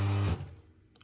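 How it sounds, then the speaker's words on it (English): A Rocket espresso machine pump runs with a loud, low steady hum that cuts off abruptly after a fraction of a second, leaving a faint fading tail and a soft click. "And the pump keeps running here."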